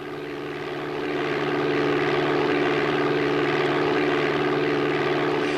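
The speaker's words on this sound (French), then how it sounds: "la simulation d'un avion dans Flight Simulator" A propeller airplane engine in the Flight Simulator video game, a steady droning hum with strong tonal bands that swells slightly louder after the first second and then holds evenly, with no speech.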